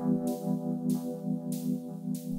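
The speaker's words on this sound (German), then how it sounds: "wenn ich jetzt hingehe und mein jetziges Hi-Hat hört sich so an" Electronic hi-hat pattern programmed in Bitwig, with four bright, crisp hits evenly spaced on quarter notes over a steady sustained tonal drone, heard without any talk.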